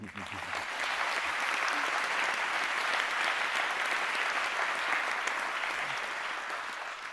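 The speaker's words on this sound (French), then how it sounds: "je voudrais que tous ces animateurs, nous puissions les applaudir" Sustained applause from an audience fills the space, dense and even from start to finish.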